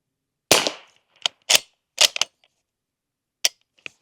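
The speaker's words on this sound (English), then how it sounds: "Always wear ear protection even when shooting suppressed." Suppressed shots from a bolt-action .300 Blackout rifle with a swapped magazine: four sharp reports with brief gaps, the first loudest with a short tail, each followed by quieter mechanical clicks of the bolt being cycled.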